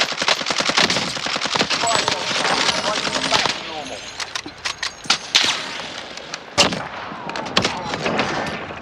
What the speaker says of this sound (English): Taking fire! Right by the loadout.